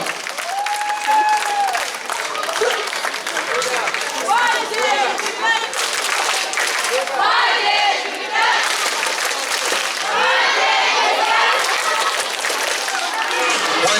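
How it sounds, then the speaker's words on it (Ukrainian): Audience applause in a stage hall welcoming the 12th squad of a children's camp shift, sustained dense clapping with crowd noise and cheers lasting throughout, a voice speaking over it in places. "Давайте їх зустрінемо буркливими оплесками."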